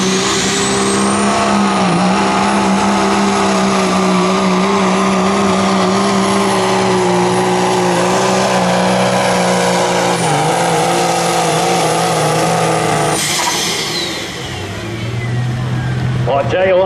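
A Mack Pro Stock semi truck's heavy engine roars at high revs at a truck pull, loud and sustained, with a whining pitch and a crowd announcer talking over it.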